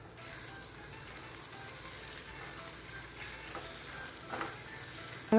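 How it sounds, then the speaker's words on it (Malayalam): Goat boti (tripe) being stirred in a hot pan, a steady broad sizzle with a few soft scrapes and clatters of the spoon toward the end, close and moderately loud. "ഇനി നമുക്കിതൊന്ന് ഇളക്കി കൊടുക്കാം"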